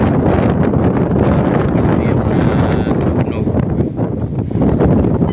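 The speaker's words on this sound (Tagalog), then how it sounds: "Pasensya na kayo at hangin dito sa area natin, guys." Strong wind buffets the microphone in loud, rumbling gusts, nearly drowning out a person speaking, near a fire at the South Railway project site in Santa Rosa, Laguna.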